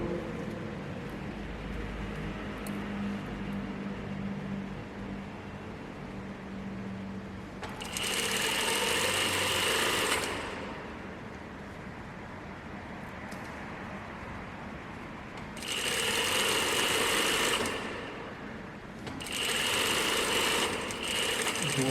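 Sewing machine stitching the side seams of elastic-waist pants in three separate runs of fast, steady whirring, each a few seconds long. Quieter pauses with low room noise fall between the runs.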